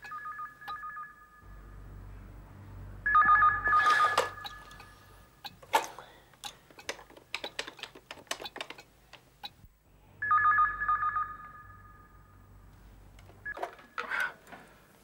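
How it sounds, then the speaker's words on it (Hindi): A telephone rings in a steady electronic warble, several ring bursts separated by pauses, with clicks and handling taps between them, close and moderately loud in a TV drama scene. "up the phone. Tushar, kahan phone uthao please."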